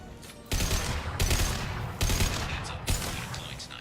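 Impact shot gunfire in the video game Mass Effect: three loud, close weapon blasts about a second apart, each a sharp burst with a short ringing tail, over low background game noise.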